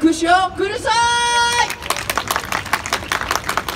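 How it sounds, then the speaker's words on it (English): Theme park show crowd at Universal Studios Japan breaks into applause after a sung, amplified call; a loud voice carries the first second and a half, then dense clapping and cheering fill the rest. "why not show us with a round of applause?"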